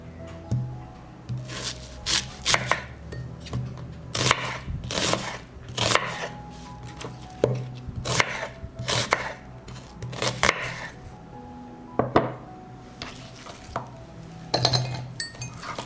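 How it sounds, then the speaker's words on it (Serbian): Parsley and onion being chopped in a food chopper, heard as repeated sharp bursts of blade clatter in uneven short runs, close and fairly quiet, with brief clinks between. "Peršun i luk usitnit ću u secku."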